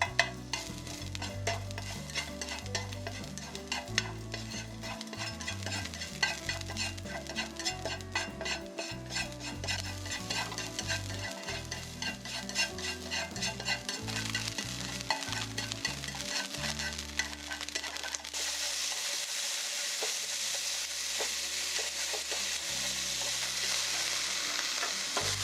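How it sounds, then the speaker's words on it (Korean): Onion, carrot, green and red chili, shiitake mushroom and beef stir-fried in an oiled pan, a steady sizzle with frequent scraping and stirring strokes, ending in a calmer frying hiss. "양파, 당근, 청홍고추, 표고, 소고기도 각각 팬에 식용유를 두르고 볶은 뒤 접시에 펼쳐 식혀주세요."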